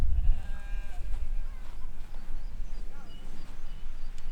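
Sheep bleat at a distance near Stickle Tarn in the Lake District, their wavering calls rising faintly over steady wind rumble on an open hillside.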